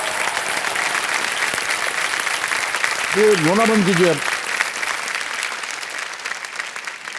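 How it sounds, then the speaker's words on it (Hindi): Loud applause from a television quiz show studio audience rolls on steadily throughout, while people speak over it and a brief sung or tonal sound rises partway through. "एक बार ज़ोरदार तालियां बज जाए इनके लिए।"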